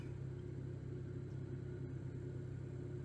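Jet engines in the DCS flight simulator spooling up as the throttles are pushed forward, a steady loud low rumble with a constant droning hum that holds evenly throughout, no voices.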